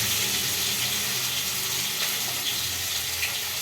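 Fish dropped into hot oil sizzles and crackles steadily in a close, moderately quiet kitchen sound, alone with no speech.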